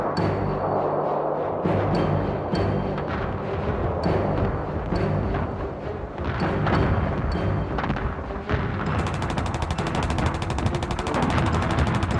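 Battlefield gunfire from a 1918 Western Front clash involving a British Mark V tank with 6-pound guns: dense, continuous rattling bursts and heavy thumps overlap throughout, with no quiet gaps.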